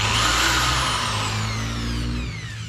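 A cordless drill spins a wire brush against an old K-750 motorcycle engine from a Dnepr-12, giving a loud, steady whining drone with a falling pitch sweep, running continuously close by without talk.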